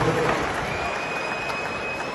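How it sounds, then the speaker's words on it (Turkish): A crowd applauds at an event at the Istanbul Congress Center, a dense, steady wash of many hands clapping held at an even level for the whole short stretch. "Gülsüm'e de bir alkış alabilir"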